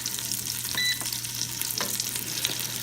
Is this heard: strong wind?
no